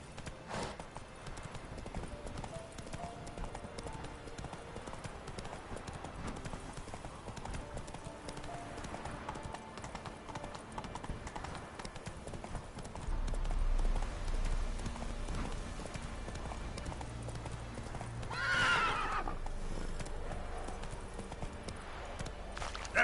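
Roach, the horse in The Witcher 3, gallops with rapid rhythmic hoofbeats clip-clopping throughout, joined by a swelling whoosh and a brief bright rustle near the end, with faint voices in the background.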